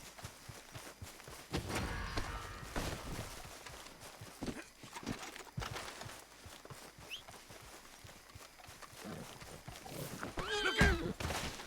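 Horse neighing and hooves clip-clopping in the Red Dead Redemption 2 video game, with scattered hoof steps throughout and a sharp whinny near the end over ambient game sound.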